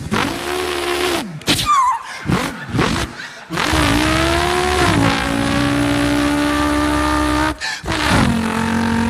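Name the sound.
person imitating a car engine revving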